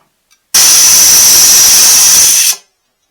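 A loud, steady high-pitched whine from a power tool rises abruptly, holds evenly for about two seconds, then cuts off during a rifle chambering job with a reamer cutting toward the shoulder.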